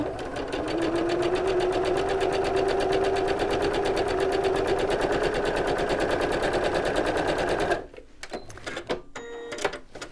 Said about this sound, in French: on fait attention à bien mettre l'aiguille sur le trait et on fait notre petite couture droite.